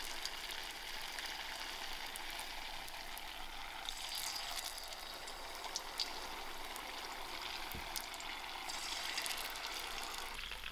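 Paneer cubes frying undisturbed in about 2.5 cm of hot oil on medium heat for chilli paneer; a steady, soft, continuous sizzle and crackle with faint pops, no voices.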